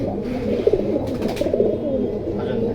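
A pet pigeon at a dealer's place gives a low cooing call, close and clear, repeating over a few seconds with no talk.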